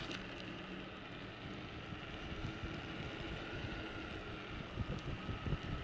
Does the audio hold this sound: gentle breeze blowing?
yes